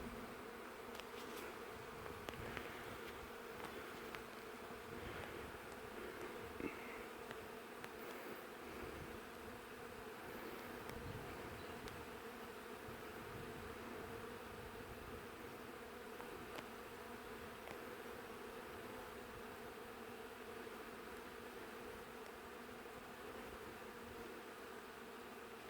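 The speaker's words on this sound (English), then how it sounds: "Definitely got a few bees going in and out of that box." Honeybees from a swarm fly in and out of a hive box, their faint buzzing steady and continuous with occasional louder passes near the hive.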